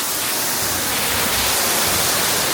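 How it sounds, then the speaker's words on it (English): Steady, loud rush of falling water from a waterfall at EPCOT, a dense continuous roar filling the scene with no voices over it. "Look at this gorgeous waterfall,"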